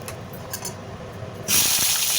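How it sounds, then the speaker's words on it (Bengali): Potatoes drop into hot oil, and a quiet background abruptly bursts into a loud, bright, steady hiss of frying about two-thirds of the way in. "এবার এর মধ্যে আমি আলু দিয়ে দেব। আলুটা দিয়ে ভেজে লাল করে ভেজে তুলব।"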